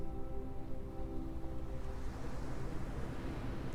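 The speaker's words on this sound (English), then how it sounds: "It's a body of water." Waves wash over a body of water in a continuous, soft, far-off rush, a steady surf wash with gentle swells and no voices.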